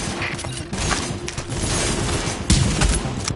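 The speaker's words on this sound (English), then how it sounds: "Reporting gunfire in the station above us." Gunfire in the video game The Division crackles from a station above, a dense, continuous burst of loud shots and impacts for a few seconds, with a sharper surge near the end.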